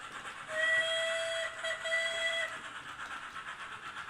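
A model railway train's steam whistle sounds from the layout, a fairly quiet sustained blast of about two seconds with a brief break, over a faint mechanical running hiss.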